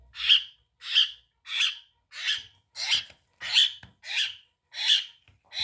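Asian glossy starling chicks give repeated sharp, high-pitched calls, about nine evenly spaced bursts, close and fairly loud with near silence between them.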